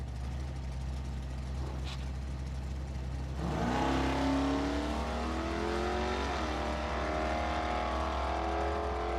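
A 1984 Ford Mustang Fox body launches down a drag strip, its engine rumbling at idle before a loud rising roar of hard acceleration with clear gear-shift changes, close and dominant.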